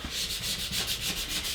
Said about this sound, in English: Now I'm going to take my scraper, get it on there nice and hard.